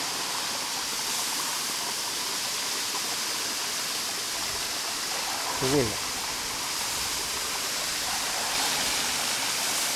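Mountain stream in the hills of Nagano, water rushing steadily as a broadband roar through the whole stretch, with a person briefly speaking over it midway.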